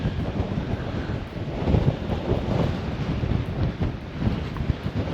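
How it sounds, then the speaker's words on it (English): Strong, cold wind in Iceland roars and buffets the microphone continuously, a loud low rumble with gusty surges throughout and no other clear sounds. "it's very windy"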